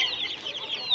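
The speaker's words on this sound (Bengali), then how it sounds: "দারুণ মুরগি আছে" Chickens at a hen and duck market in Uluberia, among guinea fowl and silkie hens, cluck steadily in a dense, continuous flock chatter with a few sharper calls near the end.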